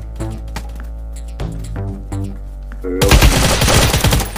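Gunfire erupts in a Vietnam War combat game, a loud rattling burst of rapid shots breaking in halfway after quieter clicking and tonal game sounds.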